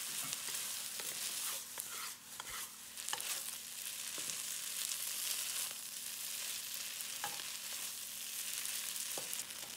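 Shrimp pad thai sizzles steadily in a hot pan, with a constant close frying hiss punctuated by scattered spatula clacks and scrapes as it is stir-fried.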